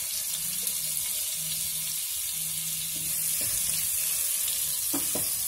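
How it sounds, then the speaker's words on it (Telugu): Butter melts in hot oil in a pan with a continuous close sizzle and crackle, plus a few brief sharper pops near the end and no voices. "బటర్ కరుగుతుంది కదా."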